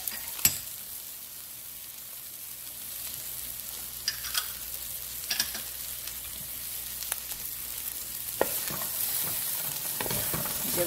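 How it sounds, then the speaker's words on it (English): Ginger and garlic fry in a pan with frozen wontons, giving a steady hiss with scattered sharp scrapes and taps of the utensil as the pan is stirred and tossed. "I think we'd be safe to say we could add the aromatics. The ginger and the garlic."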